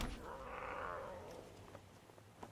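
A cat token is created in the video game MTG Arena, and a drawn-out meowing cat cry plays once, fairly close, then fades into quiet game sounds.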